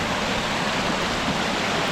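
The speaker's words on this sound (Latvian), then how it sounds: "Te ir kaut kāda kalna upe" A mountain river in Iceland rushes steadily and close by, a dense, continuous roar of flowing water with no voices over it.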